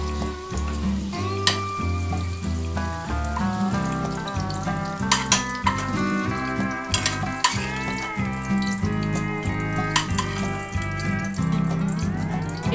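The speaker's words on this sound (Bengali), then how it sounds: "তো পেঁপেটা ভেজে নিয়ে তোমাদের আবার দেখাচ্ছি" Sliced papaya fries in oil in a pan during preparation of a Bengali red chicken curry, with a soft continuous sizzle heard under louder background music.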